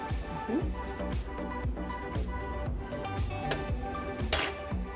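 A spoon stirring Zuppa Toscana in a soup pot, repeated metallic clinks and scrapes at a steady rhythm, close and moderately loud, with a sharper clank near the end.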